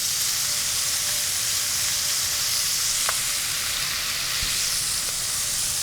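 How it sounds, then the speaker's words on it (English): Pork pieces laid in a single layer browning in a Dutch oven, a steady close sizzle and hiss with a couple of faint clinks, no voices. "it's all hitting the bottom of the pan"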